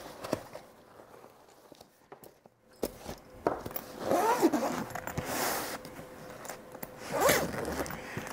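A zipper is pulled closed around a fireproof document bag, with two long, close rasping runs separated by brief handling rustles and pauses.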